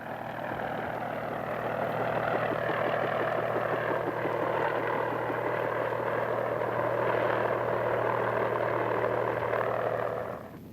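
Heavy military helicopters fly overhead, a continuous loud rotor and engine drone with a steady low hum, holding level for about ten seconds before easing off slightly at the end.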